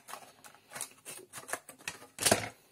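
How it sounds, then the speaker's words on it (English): A product package being cut open with a knife, giving a series of short crisp snips and scratches close by, ending in a louder tearing rustle. "we'll just cut it open and be done with it."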